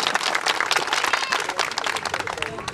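Outdoor crowd at a community association picnic gives a lively round of clapping, dense and fairly close, with scattered voices mixed in, lasting a few seconds.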